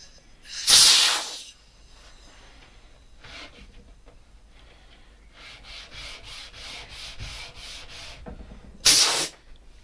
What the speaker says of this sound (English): Anyway, I'll get it sanded smooth.